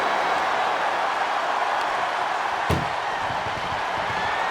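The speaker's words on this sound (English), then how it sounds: "Trying to force the first door closed." An ambulance door at a wrestling event being forced shut, a single sharp slam cutting through the constant roar of an arena crowd.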